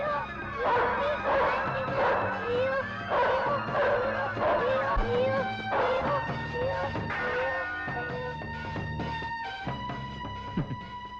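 A dog barks and yips repeatedly in short bursts alongside frightened human cries and music, the barking loud and close.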